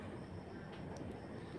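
Ambience inside an underwater metro station in Kolkata, with a faint, steady low rumble of rail traffic and a couple of brief high tones, distant and quiet.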